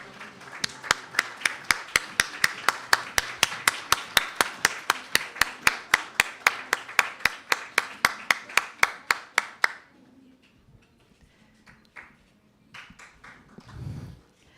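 Audience at an international education congress clapping for guests and speakers, heard as sharp, evenly spaced rhythmic claps in unison that stop abruptly, followed by quieter scattered sounds.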